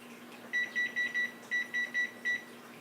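Oven timer beeping as it is set for bread baking: two bursts of four short, evenly spaced electronic beeps, clear over a low steady hum.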